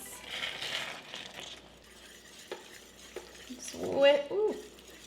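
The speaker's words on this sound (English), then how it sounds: "Turn down your stove to like low, and we're gonna whisk in that cheese." American cheese being whisked into a sauce in a pan over low heat for cheese fries: soft scraping and stirring with a few light clinks, ending in louder whisk strokes against the pan.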